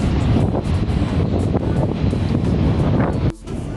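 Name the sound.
strong wind blowing at Dover port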